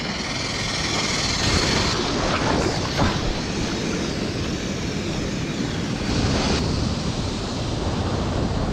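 Strong sea waves pound a rocky shore, a loud continuous roar of surf with surges breaking around 3 and 6 seconds, wind rushing across the microphone throughout.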